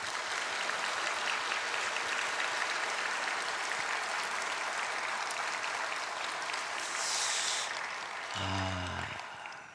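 Sustained applause from a church congregation during a Sunday evening service, dense and steady clapping filling the room, tapering near the end.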